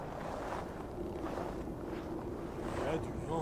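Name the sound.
wind blowing in video game Assassin's Creed Valhalla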